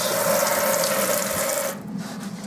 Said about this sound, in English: It's a swivel tap, hot and cold.